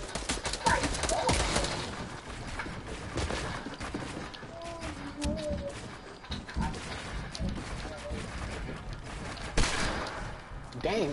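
Rapid bursts of Desert Eagle pistol fire in a creative-mode shooter game, sharp cracks scattered throughout under frequent voices talking over the action.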